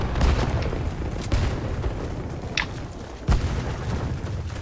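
USAS-12 automatic shotgun fire in the video game Warface, several heavy booming shots spaced irregularly over a dense, rumbling battle background, loud and close.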